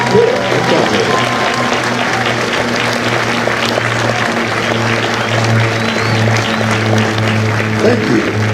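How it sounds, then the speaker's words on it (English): An audience at a Marine Corps recruit graduation ceremony at MCRD San Diego applauds steadily, a dense, even wash of clapping from a large crowd that holds for several seconds over a low droning hum. "Ladies and gentlemen, a round of applause for their dedicated service to School of Infantry."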